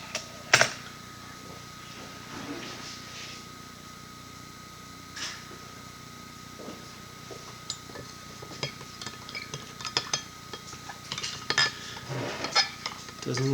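A spoon stirs a homemade cycling energy gel mixed with bulk magnesium citrate powder in a container, giving scattered light clinks and scrapes that grow busier toward the end, fairly quiet and close.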